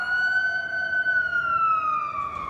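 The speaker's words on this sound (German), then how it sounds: "Du hörst die Sirene in den Straßen." An emergency siren wails steadily through city streets, one long, slowly falling tone, loud and continuous with no talking over it.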